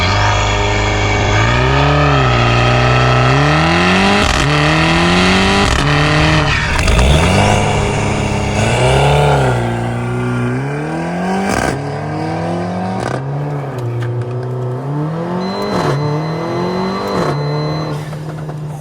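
A Weistec-tuned 450 hp Mercedes-AMG GLA45 accelerating hard: a loud, close engine note climbs repeatedly through the revs, breaking at each gear shift before rising again, then settles toward a steadier drone, with no voices.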